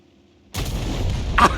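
A tank cannon fires at close range in the World of Tanks game with the GW Tiger (P), a sudden heavy blast after near silence, followed by a rumbling tail and a second bang.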